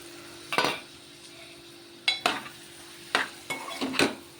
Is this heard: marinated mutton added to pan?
yes